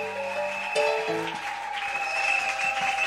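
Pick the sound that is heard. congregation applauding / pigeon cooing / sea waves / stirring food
congregation applauding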